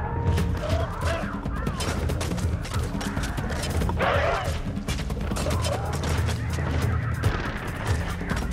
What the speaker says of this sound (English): Throwing spears!